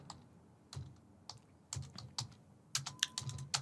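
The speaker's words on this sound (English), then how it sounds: "let me just type a testing message" A short message is typed on a computer keyboard, sparse, fairly quiet key taps building into a quicker cluster at the end, heard close with no speech.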